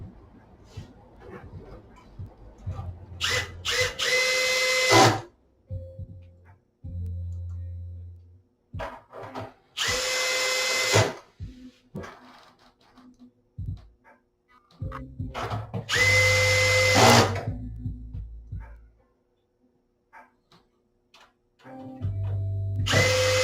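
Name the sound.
screws being driven back into brackets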